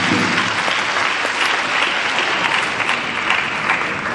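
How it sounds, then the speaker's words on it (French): An audience at an official launch event applauds a guest speaker, with loud, dense, continuous clapping that holds steady throughout. "Je voudrais qu'on l'applaudisse également."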